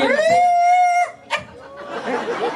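A person imitates a dog's long, sustained howl, followed by a short yelp and then rustling noise.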